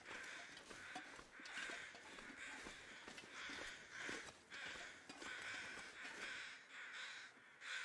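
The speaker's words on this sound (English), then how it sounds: "The crows are so freaking loud." Crows caw over and over in a video game, a steady stream of harsh, overlapping calls held at a fairly even level throughout.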